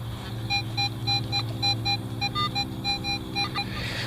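A metal detector gives a high electronic signal tone in quick repeated beeps on a dig during outdoor relic hunting in a yard, sounding over a low steady hum without speech.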